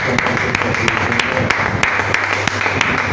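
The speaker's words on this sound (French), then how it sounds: "acclamons très fort pour le Seigneur Jésus" A church congregation applauds and cheers for Jesus, sustained crowd clapping with a few sharp individual claps standing out, loud and steady across the whole moment.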